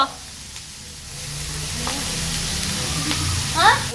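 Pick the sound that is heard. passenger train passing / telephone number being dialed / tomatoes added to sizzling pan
tomatoes added to sizzling pan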